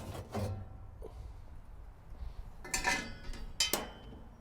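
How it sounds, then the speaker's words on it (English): A metal sliding sear plate on a Cuisinart Clermont pellet grill is lifted and slid out, giving a few sharp metallic clanks and scraping clinks with quiet gaps between. "I can remove this sliding sear plate."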